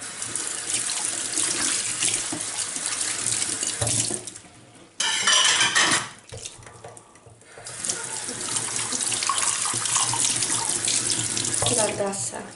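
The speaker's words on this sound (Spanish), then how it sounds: "lo pongo en su sitio y ahora voy a enjuagar esto, voy a enjuagar esto" A cup is rinsed under a running kitchen tap: close, steady splashing water that briefly changes tone and softens midway, then resumes its even flow into the sink.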